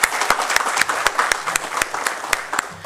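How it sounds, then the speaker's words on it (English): Audience applause at a suppliers' meet, a dense, steady burst of many hands clapping close and loud throughout, with no voices over it. "So I would like to start with a big round of applause for everybody here."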